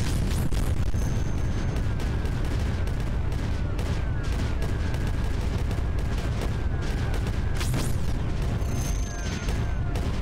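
Cannons fire repeatedly in the strategy video game Creeper World 4, producing a dense, continuous barrage of loud booms and crackling blasts with no talking.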